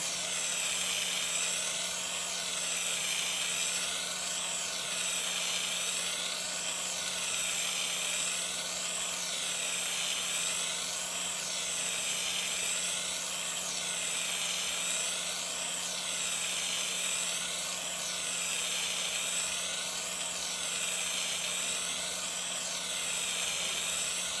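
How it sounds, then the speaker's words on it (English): A torch flame heating metal to a dull red for a spiral pendant, a steady loud roaring hiss that holds unbroken with a slight wavering texture, no talk. "We're just going to heat this up until it's a dull red and then quench it."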